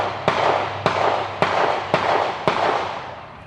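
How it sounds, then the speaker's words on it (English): Gunshots in a city neighborhood ring out as five sharp pops spaced about half a second apart, each with a brief echoing tail, moderately distant with no talking. "Hear them shots?"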